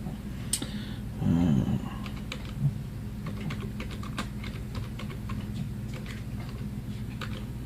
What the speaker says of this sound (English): so I'm just typing it in here.